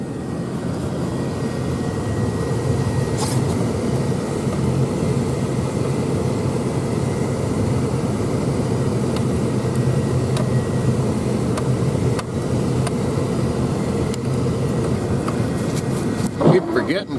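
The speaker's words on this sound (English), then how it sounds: "Keep forgetting to turn off that heater. That is a horrible noise on the camera." A truck's cab heater runs with a steady, loud droning blower noise that stays constant throughout, close to the camera inside the vehicle.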